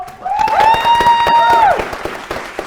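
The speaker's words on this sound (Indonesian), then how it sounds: "Tepuk tangan dulu." A studio audience claps at an Islamic-themed quiz show, scattered hand claps under a loud sustained musical tone or jingle that rises and fades, the clapping thinning out at the end.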